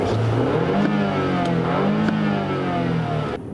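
The inline four-cylinder engine of a BMW 520i F10 revs steadily, its pitch rising and falling slightly as it holds a continuous droning hum, loud and close throughout.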